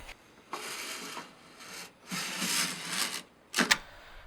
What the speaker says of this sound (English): set it aside and pull your bolt straight forward